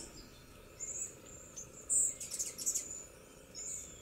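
High, thin chirps and squeaky tweets in short bursts over a quiet outdoor background, close by, like a small hummingbird calling.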